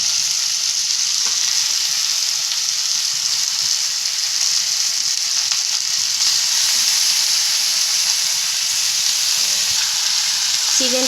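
Chicken pieces frying in spiced oil for chicken soup make a loud, steady, close sizzle with hissing spatter that runs unbroken throughout.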